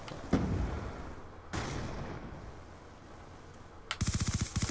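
Gunfire in Call of Duty Black Ops 2 multiplayer: two sharp single shots with decaying tails, a third later, then a rapid burst of automatic fire at the end, fairly loud with no talking.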